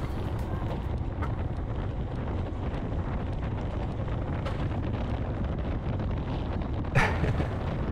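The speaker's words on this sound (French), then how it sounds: "il y avait vraiment beaucoup de vent hein, sur cette course" Constant low rumbling buffets of strong wind battering the microphone during a cycling race, steady throughout with a brief sharper gust near the end.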